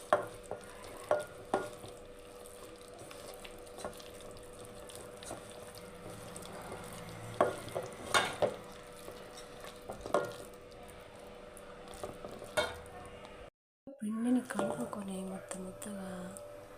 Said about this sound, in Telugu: పెద్ద ఆనియన్ ఆనియన్ మొక్క ఇవన్నీ కలుపు ఇలా మొత్తం వేసి కలుపుకోవాలి